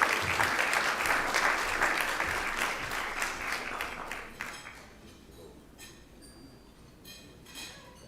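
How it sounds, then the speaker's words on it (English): Audience applause at a live event, loud and dense for about four seconds before tapering off into scattered claps and faint glassy clinks. "Let's give the Afro and the Baltimore Times a round of applause as they come."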